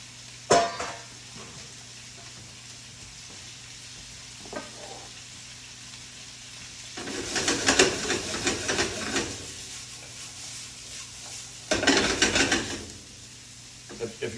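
Vegetables cooking in a pan beside boiling pasta, a low sizzle punctuated by two long bursts of rattling, scraping toss-and-stir noise and a few sharp knocks, close by.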